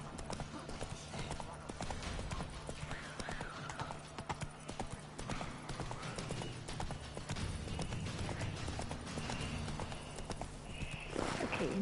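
Steady horse hooves clip-clopping at a walking pace in The Witcher 3: Wild Hunt, a whinny near the end, over a dense bed of game music and ambience.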